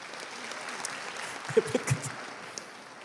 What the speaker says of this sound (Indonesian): Oh iya tepuk tangan buat David.